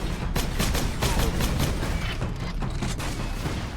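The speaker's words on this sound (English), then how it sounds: "From the bolter making a very distinct sound when it's starting to empty." A bolter in the video game Warhammer 40K Space Marine fires in a rapid, steady burst of sharp, heavy shots with metallic mechanism clatter as the magazine empties, loud and close.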